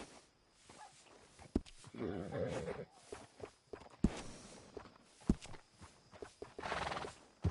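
A horse in Red Dead Redemption 2 whinnies and snorts while hooves clop on the ground, with scattered sharp knocks and a voice occasionally speaking.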